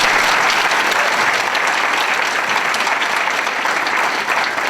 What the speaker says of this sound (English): could you please give these people a round of applause